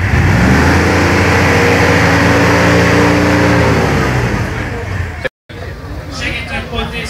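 Car engine at an American car meet by Lake Balaton revving hard and holding high, then dropping away after a few seconds, with crowd chatter and voices around it.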